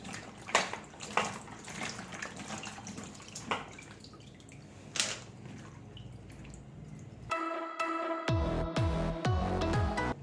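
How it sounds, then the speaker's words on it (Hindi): Okra being washed in water in a kitchen, with splashing and dripping water at close range that turns into a steadier running, tap-like flow near the end. "भिंडी को भी पहले हम अच्छे से वॉश कर लेंगे पानी में"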